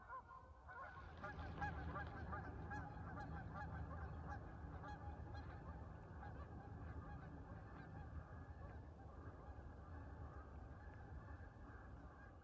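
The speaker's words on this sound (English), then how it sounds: "And there's those geese that landed right up there." A flock of geese honks continuously in the woods after landing nearby, a steady overlapping chorus of calls at moderate distance with no talk.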